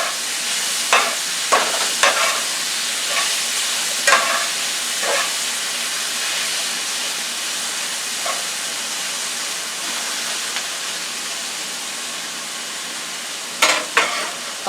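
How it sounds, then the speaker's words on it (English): Raw rice is stirred into frying onions and peppers in a hot pan, giving a steady hissing sizzle with occasional scrapes and clinks of the spoon. "The other half I'm going to put in the rice raw. I'm going to mix that in."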